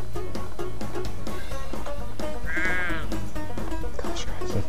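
Sheep in The Sheep Game, a video game, bleat in one clear, wavering call midway, over a steady backdrop of game music and a talking voice.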